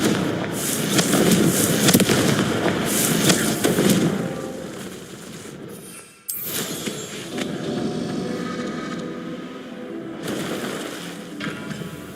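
Confringo fire spells cast in Hogwarts Legacy burst with crackling, booming explosions, loud at first, then a sudden cut and a second, somewhat quieter run of blasts.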